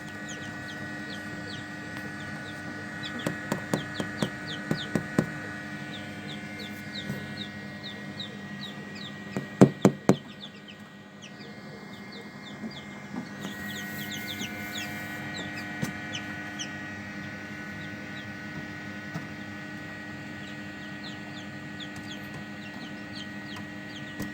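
Newly hatched chicks peeping in rapid, high chirps alongside hens clucking on a small home hatching setup, steady and close, with a few louder clucks and a brief burst of knocking.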